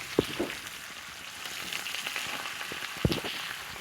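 Onion and garlic sizzle in a pan with spices, a soft, steady frying hiss broken by a couple of sharp pops and light clinks.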